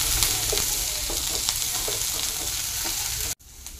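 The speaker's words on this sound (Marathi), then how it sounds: "कोबी आणि शिमला मिरची, वाटाणा, हे छान असं परतून घ्यायचं आहे आपल्याला।" Cabbage, capsicum and peas sautéing in a pan, a steady loud sizzle with regular stirring scrapes, cut off abruptly near the end.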